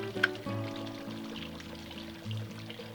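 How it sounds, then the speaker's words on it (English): Grapefruit soda being poured into a Paloma cocktail glass, a steady close stream and trickle of liquid running for a few seconds with a brief splash near the start. "you're going to add 2 ounces of your soda in, along with the juice of half a lime."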